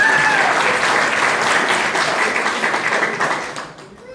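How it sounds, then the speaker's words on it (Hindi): A crowd applauds loudly with dense, steady clapping that gradually fades out toward the end. "सर के लिए एक बार जोरदार ताली हो जाए"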